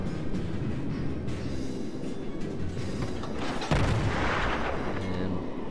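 Artillery fire in the World of Warships naval combat game, a ship coming under shelling with dense, continuous rumbling booms and a louder burst of impacts near the middle, all loud and without pause.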